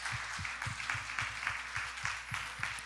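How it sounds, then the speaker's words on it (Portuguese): Church congregation applauding during a Portuguese-language worship service, steady quick clapping from many hands, moderately faint and continuous throughout. "Pode aplaudir ao Senhor."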